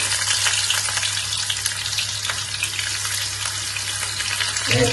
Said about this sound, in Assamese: এতিয়া পিঁয়াজ আৰু কেঁচা জলকীয়াটো দি লওঁ।